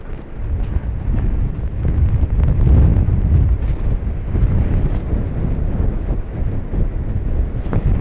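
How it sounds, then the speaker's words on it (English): Steady, unbroken crosswind at Dublin Airport roaring and buffeting the microphone, a low rumbling rush that holds at a constant level with no distinct gusts. "So it's not gusts anymore, it's just continuous for the moment."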